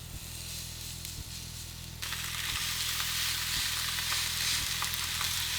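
Chicken pieces going into palm oil in a pan, crackling and sizzling, jumping louder partway through as the chicken goes in, with a faint rhythmic thumping underneath.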